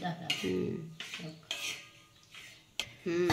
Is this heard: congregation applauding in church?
no